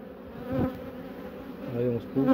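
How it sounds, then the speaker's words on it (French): Honeybees buzz close by as they are placed into a hive box, a dense droning hum with rising, wavering swells from individual bees. "Je vais mettre 4-5 abeilles dedans."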